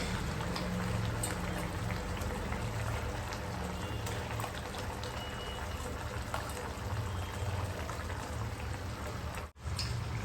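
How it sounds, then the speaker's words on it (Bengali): Masala curry simmers with water and pieces of fish in a pan, giving a steady low bubbling and faint crackle that runs evenly and quietly, briefly dipping near the end. "এর মধ্যে দিয়ে দেবো জল হালকা সেদ্ধ হয়ে গেছে মাছগুলো দিয়ে দিচ্ছি"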